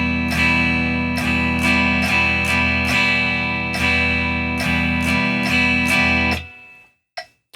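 A guitar strummed in a beginner pattern of two quarter-note strums followed by four eighth-note strums, steady and bright, repeating for several bars before ringing out, with no voices.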